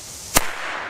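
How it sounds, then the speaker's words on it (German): A single sharp bang from a Komet Pyrocracker firecracker, a short loud crack followed by a brief fading rumble against quiet background hiss. "jetzt mal nochmal ganz zum Schluss einen sehr aktuellen Komet Pyrocracker aus der heutigen Zeit als kleine Referenz"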